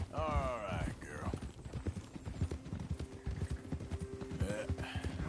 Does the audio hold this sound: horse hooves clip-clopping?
yes